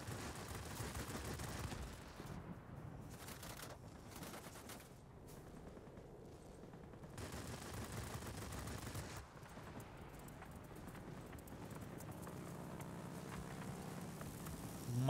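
Anti-aircraft guns in a Wargaming game pound away at bombers, a dense continuous barrage of rapid fire and explosions throughout, moderately distant amid engine and battle noise.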